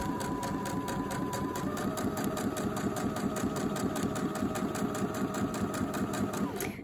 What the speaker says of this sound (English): Does anybody else find it quite therapeutic to listen to the sewing machine?